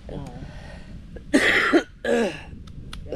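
A person with chest pain coughs twice in harsh, close bursts, with a short breath and faint murmuring before them.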